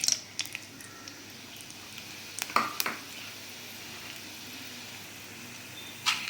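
A stick of cinnamon, two cloves and a little fennel fry in hot ghee for a banana stem soup, making a soft, steady sizzle with a few sharp clicks and pops scattered across the clip. No voices are heard.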